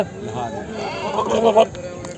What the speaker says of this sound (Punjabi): ਲਓ ਵੀ ਆ ਬੱਕਰੀ ਆ ਜਿਹਦਾ ਸੌਦਾ ਹੋਇਆ ਤੋਂਗ ਵਾਲੀ ਮੰਡੀ ਦੇ ਬਾਈ ਕਾਲਾ ਬੰਬਈਏ ਵਾਲਾ ਲੈ ਕੇ